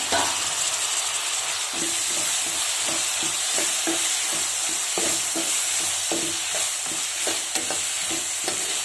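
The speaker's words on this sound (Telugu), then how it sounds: "మొత్తం వేగేంత వరకు మనం బాగా ఫ్రై చేసుకుందాం." Tomato pieces sizzle loudly in hot oil while a spoon scrapes the pan in a steady, repeated stirring rhythm.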